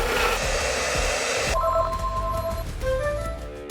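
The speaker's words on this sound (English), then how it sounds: "The oil-free compact piston compressor from Aircraft." An Aircraft Airboy Silence oil-free compact piston compressor runs with a steady close whooshing drone, and its tone shifts partway through into a lower hum with faint tonal whines.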